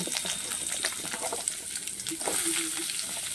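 Chopped onion pieces hit hot oil in a pan and fry with a steady, dense sizzle and crackle. A few clinks and stirring sounds sit on top, close up, with no speech.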